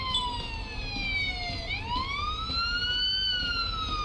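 An ambulance siren in the Police Simulator: Patrol Officers video game wails steadily, sweeping down and back up in pitch over a low engine and traffic rumble.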